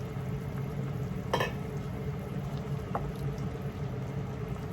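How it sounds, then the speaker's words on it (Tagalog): Pork curry with potatoes simmers in a pot, a steady low bubbling and sizzle running throughout, broken by a spoon clack and a softer knock as it is stirred, close and fairly quiet. "I-mix na po natin, haluin natin din"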